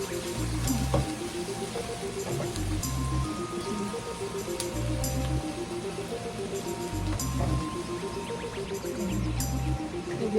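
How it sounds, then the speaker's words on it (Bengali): Onions frying in a pan for a bottle gourd leaf and shrimp mash, a steady close sizzle with soft periodic stirring scrapes and faint drips, no voices. "দেখুন আমার পেঁয়াজ ভাজাটা শেষের দিকে"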